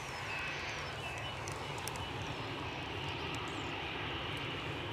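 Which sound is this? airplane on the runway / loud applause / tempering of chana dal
airplane on the runway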